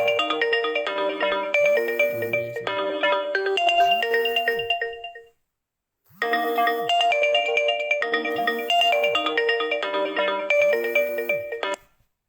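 A mobile phone ringtone plays a bright, repeating electronic melody loudly and alone, in two long bursts separated by a brief silence, heard during a religious lesson.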